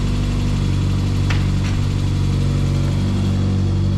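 An Austin America car engine idles close by, a steady, even mid-pitched hum with a constant low throb and a couple of faint clicks.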